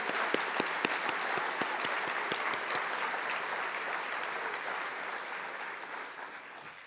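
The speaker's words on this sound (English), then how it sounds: "Big round of applause for everyone." A scholarship awards night crowd gives a long round of applause, dense clapping with a few sharp individual claps early on, sustained and then gradually tapering toward the end.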